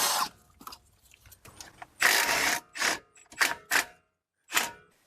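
A wrench works the 13 mm rear brake caliper bolts on a Chrysler Town and Country minivan, giving short sharp metallic bursts and clicks separated by brief pauses, close and fairly loud.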